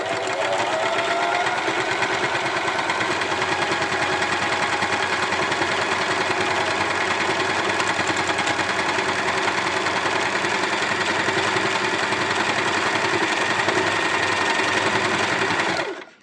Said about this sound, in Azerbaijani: Çox sürətli tikməyə ehtiyac yoxdur. Asta sürətlə tikirəm, özü gedəcək.